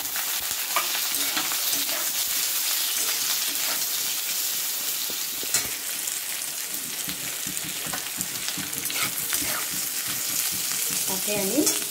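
Potatoes and green chillies fry in a pan for chana aloo jhuri with a loud, continuous sizzle and steady crackle. Occasional scrapes of stirring rise above the hiss.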